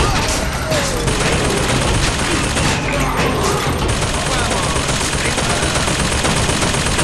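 Sustained automatic gunfire in BioShock Infinite, loud and continuous over several seconds with sharp bursts layered on a constant roar, with a voice briefly speaking over the shooting.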